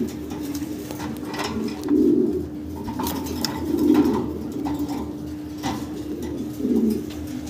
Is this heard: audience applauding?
no